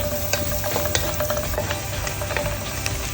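Onions frying in butter in a pan give a dense, steady sizzle with scraping stir strokes on top, close and continuous with no talking.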